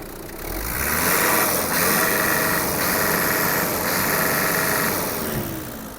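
A Kubota GT8 (Hinomoto NZ260) mini tractor engine runs loudly and steadily, rising in revs with a rough mechanical rattle and vibration, holding at high speed for several seconds.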